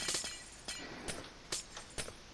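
Glass blocks broken in a modded Minecraft-style video game: four crisp, quiet shattering clinks spaced about half a second apart, with no other sound around them.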